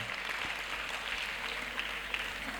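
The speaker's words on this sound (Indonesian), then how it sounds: "Tepuk tangan buat dagu." Steady applause from a gathered audience at an Islamic boarding school (pesantren) visit, a continuous soft wash of clapping held at even level throughout with no distinct voices.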